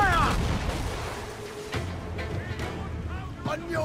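Ship cannon fire in the naval combat of the video game Assassin's Creed IV, a dense rumble of booming shots and low thuds over sea and wind ambience, with voices shouting over the battle.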